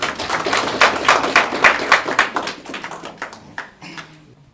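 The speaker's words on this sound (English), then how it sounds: "Please give a round of applause." An audience applauds at a mentorship program graduation ceremony, a dense patter of clapping hands that starts strong and thins out over a few seconds.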